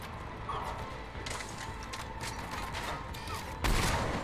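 Cannon mechanism powering up in Mass Effect 3, a series of mechanical clanks, ratcheting clicks and gear noises over a steady background, with a sharper heavy clunk near the end.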